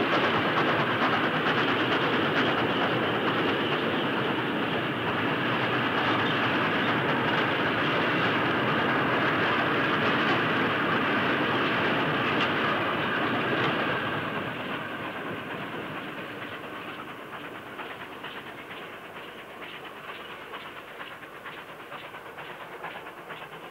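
Steam-era ore freight train rolling past a signal box on the Wirral line near Birkenhead, a steady loud rumble with clattering wagons that fades somewhat as it moves away, no talk.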